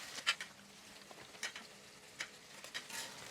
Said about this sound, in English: We'll saute the onion until it becomes nice and translucent